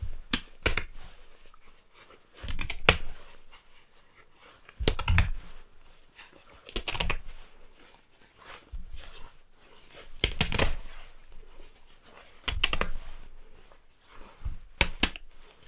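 Zipper teeth being ripped out of a jacket seam by hand, a series of sharp, rasping tearing bursts separated by short pauses, close and fairly loud with no talking.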